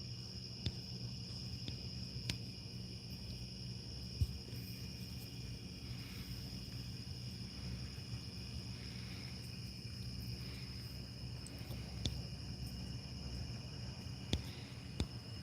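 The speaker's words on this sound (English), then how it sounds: "I keep forgetting to tape these damn crickets." Crickets chirp through a warm, humid night, a steady, faint high-pitched trill with a few soft clicks and taps, with no voices.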